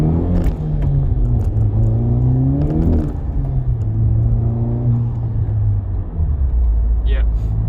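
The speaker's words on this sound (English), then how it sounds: "there's a lot of induction and exhaust noise" A 2019 Honda Civic Type R (FK8) engine drones and rises in pitch as it accelerates, with deep exhaust rumble and induction noise while someone talks over it.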